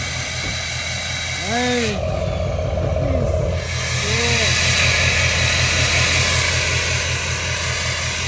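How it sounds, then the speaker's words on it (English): A turbocharged 2015 GMC truck with a straight-pipe exhaust runs as a loud, steady engine drone with a rising whine layered over the rumble. A voice calls out briefly. "And you hear that turbo."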